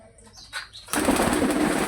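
Pigeons in a loft: a few soft coos and rustles, then a sudden loud burst of flapping wings that continues to the end.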